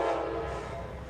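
A horn blares from a passing train in Kentucky. It is a brief, steady, fairly loud tone with a low rolling rumble beneath it.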